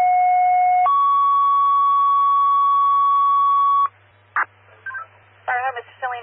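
Fire dispatch radio alert tones during a three-alarm fire in Webster, Massachusetts: two long steady pitched tones in sequence, loud and clean, followed by short bursts of crackly radio voice traffic.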